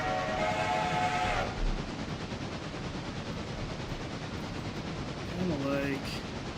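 A six-chime Central of Georgia steam locomotive whistle sounds in a train simulation game, a loud sustained chord over steady rumbling rail noise, followed later by a shorter, fainter whistle blast.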